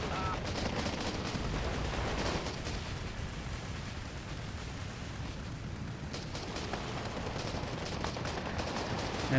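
MP44 and MP40 fire in a forest battle in Steel Division 2, a continuous distant crackle of automatic bursts and booms, fairly faint and unbroken.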